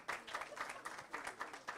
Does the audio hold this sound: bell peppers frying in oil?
no